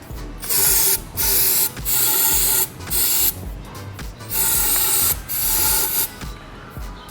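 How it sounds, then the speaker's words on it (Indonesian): Brake cleaner is sprayed onto motorcycle shock parts in repeated loud hissing blasts, about six bursts of roughly half a second each separated by short pauses, close up with no talk. "Mas Rang biasanya kalau bersihin yang masih ada sil-silnya pakai brake cleaner kayak gini nih. Ini tinggal kalian semprot aja"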